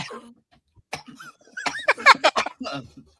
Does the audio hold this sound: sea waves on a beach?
no